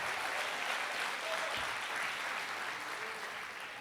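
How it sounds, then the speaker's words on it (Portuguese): A church congregation in Rio de Janeiro gives steady, dense applause, a continuous wash of many hands clapping that stays even and moderately loud throughout, tapering slightly at the end. "Aplauda bem forte aos céus."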